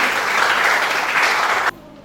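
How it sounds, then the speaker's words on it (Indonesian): A classroom of students claps together in steady, dense applause at close range, then the clapping cuts off abruptly near the end, leaving a quiet room. "Tepuk tangan dulu."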